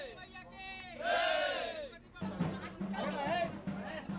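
Dense crowd of devotees at a traditional village Durga Puja pandal on Saptami in rural Hazaribagh, Jharkhand, with loud voices rising and cheering together, nearby and lively.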